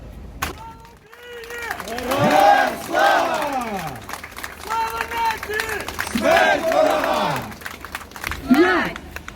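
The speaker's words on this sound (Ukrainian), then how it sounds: "він стартував 11 серпня у Києві під оплески глядачів і патріотичні гасла" Spectators in Kyiv cheer and chant patriotic slogans at the start of an 800 km charity run, rising and falling shouts with rhythmic clapping, voices close and loud throughout.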